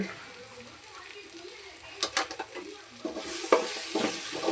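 Chicken masala and coriander powder are stirred in a pan for a village-style country chicken curry, a soft sizzle giving way to clattering, scraping spoon strokes against the pan, quick and close, with no voices.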